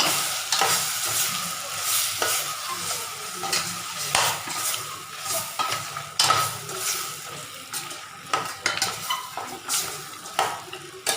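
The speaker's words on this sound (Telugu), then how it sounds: "ఇది వేసాక బాగా కలపాలండి" A spoon scrapes and clinks around a pan as garam masala is stirred, with a steady sizzle of frying underneath and repeated sharp metallic knocks.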